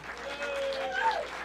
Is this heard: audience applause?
yes